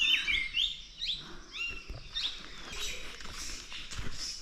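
Birds chirp and tweet in high, quick calls against a soft outdoor background in a forest in the Ananthagiri Hills, steady and fairly close.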